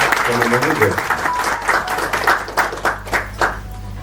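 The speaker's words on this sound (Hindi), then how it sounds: "एक बार इनके भी तालियों से एक बार इनका स्वागत करें।" A crowd claps in a burst of applause at a Kolkata electrical dealers' association diary launch event, loud at first then thinning into scattered claps, with a voice briefly over the start.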